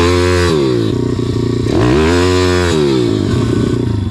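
A motorcycle engine revs hard as the clutch is dumped for a stunt, a loud close buzzing roar that climbs, drops briefly, then surges and wavers in pitch.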